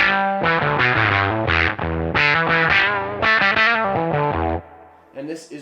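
Electric guitar played through a Walrus Audio Kangra fuzz pedal set to its filter side, a thick, saturated sequence of sustained notes and chords with a swept, vocal-like filter tone, trailing off into a quieter passage at the end.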